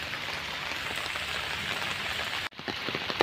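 Steady rain pours at Bangladesh National Zoo, a dense close patter on surfaces with a brief dropout near the end before the drumming resumes with a few louder drops.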